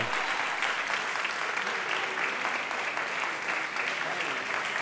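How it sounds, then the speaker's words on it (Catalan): Sustained audience applause at a book presentation event, dense and steady throughout, filling the room at even strength from start to finish. "podeu anar aplaudint, que és gratis"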